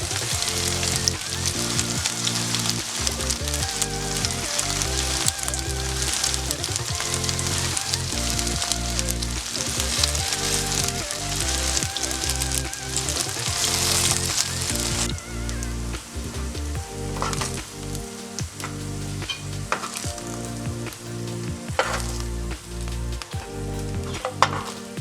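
Tofu frying in a pan of oil gives a continuous, loud, close sizzle with crackling spatter and occasional stirring scrapes throughout, no voices.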